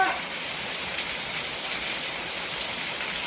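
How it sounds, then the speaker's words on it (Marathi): Heavy monsoon rain pours down steadily and loudly, a dense continuous hiss with no break, close by and without voices. "मुसळधारच पाऊस चाललाय"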